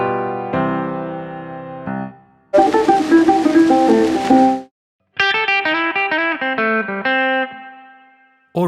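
Short melodic runs of single notes from a microtonal blues pentatonic scale played on an effected electric instrument, with a noisy distorted passage between clean phrases; notes sound slightly off standard tuning.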